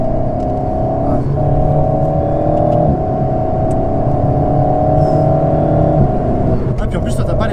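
Alpine A110 Pure sports car engine running at a steady, droning hum from inside the cabin, holding an even pitch with a slight rise near the end while occupants talk over it.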